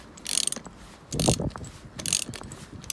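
A ratchet being cranked to pop a driveshaft out of a Mk7 Golf GTI hub, three short bursts of clicking pawl and mechanical grinding, close and moderately loud with no voices.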